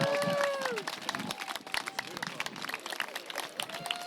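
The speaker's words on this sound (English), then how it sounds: "Another big round of applause for Lucas." Outdoor crowd clapping and cheering at a park opening, busy irregular claps mixed with voices and a brief whistle-like tone, fairly close and lively throughout.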